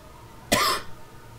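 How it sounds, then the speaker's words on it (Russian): One sharp, loud cough sounds close to the microphone, a single burst that trails off quickly into a quiet room with no talking. "Жесть, кашель убивает."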